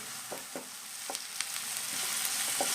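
Onions sauté in a hot pan with ginger-garlic paste for samosa filling, giving a steady soft sizzle broken by a few crisp stirring taps, close and quiet with no voices.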